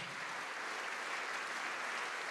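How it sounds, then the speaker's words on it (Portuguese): A church congregation applauds, heard as a faint, distant, continuous hiss of many hands clapping, steady and unbroken with no clear voices. "Venha, vamos aplaudir mais, igreja."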